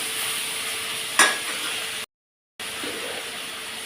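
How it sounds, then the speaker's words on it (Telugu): Tomatoes fry lightly in a pan with a soft, steady sizzle and one brief sharp clatter, close and quiet, broken by a short gap of silence. "మీడియం సైజ్ టమాటాలను కూడా ఇందులో వేసేస్తున్నాం. ఇవి లైట్గా ఫ్రై అవ్వాలి."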